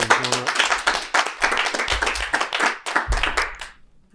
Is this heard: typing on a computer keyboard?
no